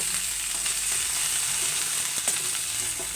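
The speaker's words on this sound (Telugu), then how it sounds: "ఇలా వేగుతుంది." Punjabi-style okra masala fries in a pan with a dense, continuous crackling sizzle and a few faint stirring ticks, close and fairly loud.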